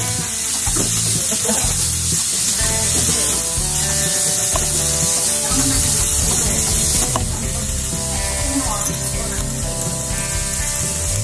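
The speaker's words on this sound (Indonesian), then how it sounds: "Oke, sekarang kita masukkan ini teman-teman, sosis dan juga saklopnya." Sausages and meatballs for spicy seblak sizzle and spit in a hot pan, a dense, steady frying hiss running close and loud throughout with faint clinks of stirring.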